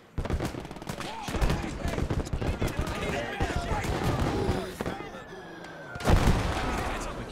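Rapid 20 mm cannon fire and other weapons in the Gates of Hell World War II game during the German battle for the hill at Saint-Lô, a dense, continuous barrage of cracks and booms with a voice talking over it.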